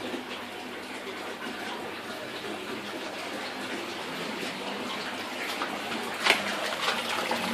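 A continuous gushing flow of water draining from a radial flow filter tank, steady and fairly loud, with a brief sharper splash late on; no one speaks.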